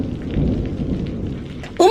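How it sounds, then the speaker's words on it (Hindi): Heavy rain pours in a cartoon storm, with a deep rolling rumble of thunder under the steady hiss of the downpour and a sudden louder burst at the very end. "तेज बारिश हो रही है और बिजली भी कड़क रही है"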